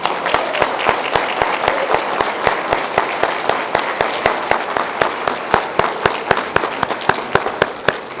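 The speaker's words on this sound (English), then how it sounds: "This round of applause." At an award ceremony honoring a Boy Scouts council award recipient, an audience gives sustained applause, with a few sharp claps standing out in a steady, even rhythm over the crowd's continuous clapping.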